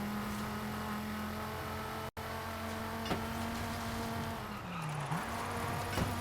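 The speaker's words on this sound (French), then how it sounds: "Ok, elle drift." A car drifts in the Forza Horizon 5 video game, a steady engine drone joined by long tire squeal that bends in pitch near the end, with a brief dropout partway through.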